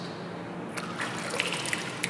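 Water is poured during a church baptism, a soft trickling and splashing with small drips that grows slightly livelier toward the end, fairly close and quiet with no talking.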